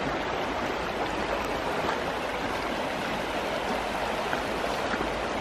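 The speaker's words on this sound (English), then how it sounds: "Quite a lot of water in it at the minute as well, by the look of it." A fairly full river, running high, rushes steadily outdoors with a continuous broadband wash of flowing water, close and even throughout with no talking.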